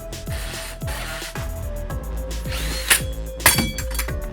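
A power drill with self-dechucking bits whines steadily, with its motor pitch sweeping down in a repeating pulse, and a few sharp clicks and knocks near the end.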